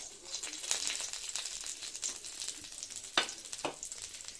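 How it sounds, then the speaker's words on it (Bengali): Steady crackling sizzle of chopped garlic frying in a little oil, with a couple of sharper spatters standing out near the end. "রসুন কুচিয়ে নিয়েছি, রসুনটা একটু ভাজা ভাজা হোক"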